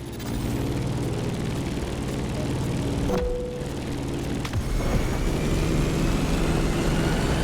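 Steady, loud engine drone of an airplane descending toward landing in the racing game The Crew Motorfest, arriving over Honolulu, a continuous broad roar with a brief dip midway and no talking.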